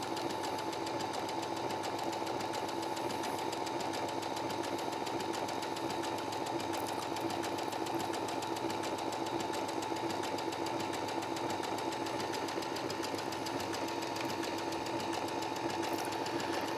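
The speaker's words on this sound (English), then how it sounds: "the straight part of the stitch is going into the background, and when it zigs over to the right, it's just catching the little tiny edge of this fabric" A sewing machine zigzag-stitches a double wedding ring quilt, its motor giving a faint, steady, even hum throughout with no speech.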